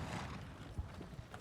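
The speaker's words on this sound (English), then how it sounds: "I can feel the quake-like thunder of horses' hooves" Horses' hooves thundering, a dense, rumbling patter of hoofbeats with a couple of heavier thuds, heard at a moderate distance under a low background wash.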